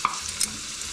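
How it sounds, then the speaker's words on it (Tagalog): Potatoes frying in a pan as an extra for beef mechado, heard as a faint, steady sizzle with a few light stirring clicks and no talk. "kaya nagpiprito pa ako ng konti"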